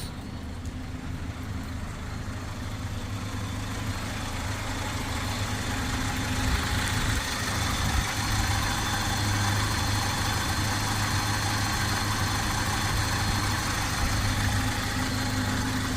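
A 1993 Mazda B2600i 4x4 longbox pickup idling with its clutch fan running, a steady low engine drone and whirring fan holding evenly throughout, close by with no talking.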